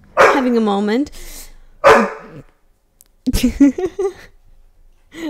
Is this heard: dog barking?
yes